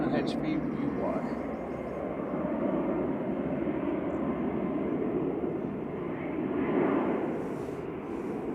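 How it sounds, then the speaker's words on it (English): A Ryanair jet operated by Malta Air powers up for departure to Shannon from Manchester Airport, a steady mid-distance engine roar swelling slightly toward the end, with faint talk underneath. "As we wait for Ryanair to go to Shannon"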